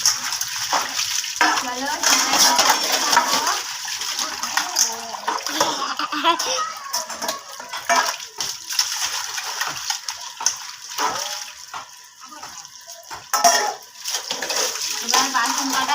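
Dishes being washed under running water, a steady splashing and spattering stream with occasional clinks, while a person talks over it.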